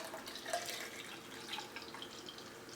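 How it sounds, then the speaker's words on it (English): Freshly made juice from a Gourmia GSJ300 masticating slow juicer poured into a glass, a soft continuous liquid stream with faint splashy trickles, close and quiet, with no talking. "I'm going to pour some in a glass."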